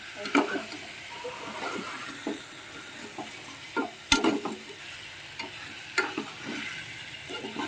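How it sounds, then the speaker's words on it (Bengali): Dal being stirred in a cooking pot after spices are added, with scraping and soft sloshing strokes at irregular intervals over a steady sizzle, plus a few sharper knocks of the spoon against the pot. "নাড়া হচ্ছে খিচুড়ির মতো"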